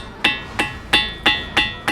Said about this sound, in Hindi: ये पत्थर घंटे की आवाज़ है।